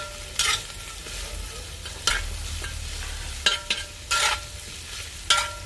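Coriander and spring onion are stirred into a sizzling pan while cooking outdoors; a steady low frying hiss runs throughout, broken by several sharp scraping strokes of a utensil at irregular intervals.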